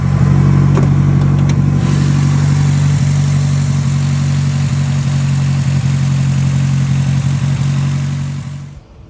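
A Mitsubishi Eclipse second-generation car engine idles steadily and loudly close by, a continuous low rumble with a faint upper hiss, fading out at the very end.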